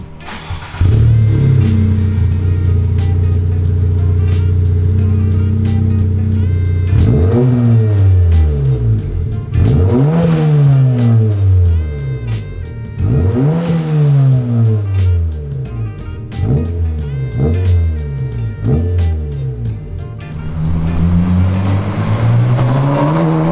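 Tenth-generation Honda Civic with an HKS exhaust revs repeatedly, each throttle blip rising and falling in pitch, loud and close, after a steady idle, with no voices.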